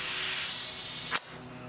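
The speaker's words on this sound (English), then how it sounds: "Get some air on it." Compressed air hissing steadily from an air hose into a tire being mounted, a close, continuous rushing stream that ends with a short sharp burst and a quieter tail.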